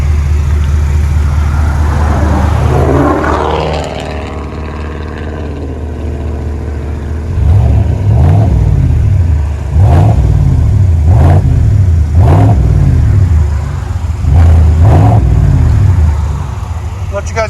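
A 2020 GMC Sierra AT4 with a 6.2L V8 and a Flowmaster 40 Series dual exhaust idles with a deep, loud rumble. It then blips through about five sharp revs in a steady rhythm, each rising and falling back to idle.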